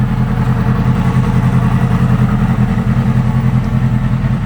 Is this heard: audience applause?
no